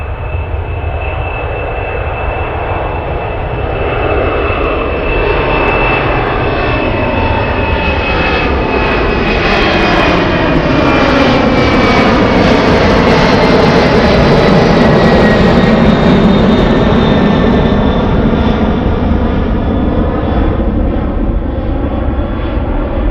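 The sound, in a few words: Boeing 767 jet airliner at Anchorage airport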